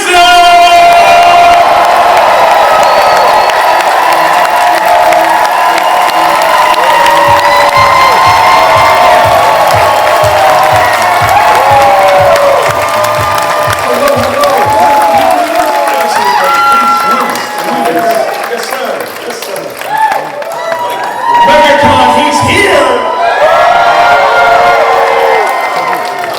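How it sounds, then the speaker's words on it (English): A convention crowd at MegaCon Orlando cheers for Mel Gibson with loud, sustained whoops, shouts and scattered applause. The dense, close roar of many voices continues for the whole stretch, swelling and dipping near the end. "Ladies and gentlemen, I need y'all to show all the love, make all the noise for Mr. Mel Gibson!"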